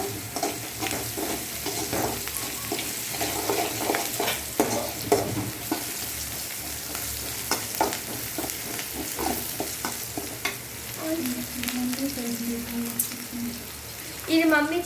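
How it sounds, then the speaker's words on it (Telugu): Salted food is stirred and mixed in a pan, with steady scraping and clinking strokes over a continuous sizzling hiss, close and moderately loud. "టేస్ట్కి సరిపడా ఉప్పు వేసుకొని బాగా మిక్సింగ్ చేసుకోవాలి"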